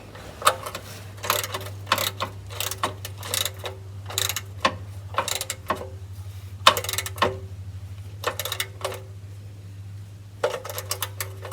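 A wrench tightens the oil drain plug on a 2001 Saturn SL1, giving a run of close, quick metallic ratchet clicks in bursts with short pauses, over a steady low hum.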